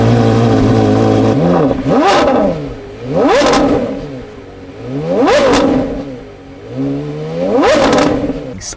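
A Porsche Carrera GT engine revs hard four times in a row, each loud, close blip rising sharply in pitch and then falling back, over a steady idle between the bursts.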